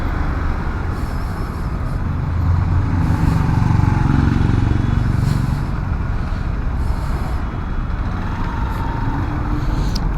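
A Hero XPulse 200 BS6 motorcycle rides through city traffic, its engine drone steady and close under the rush of wind, swelling louder midway as surrounding vehicles pass, with no speech.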